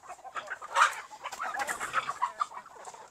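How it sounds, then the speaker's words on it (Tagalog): Native chickens on a farm clucking close by, a busy stream of overlapping clucks and short calls with no talking. "So dito tayo mauna sa ating kaunti na lang na native chicken"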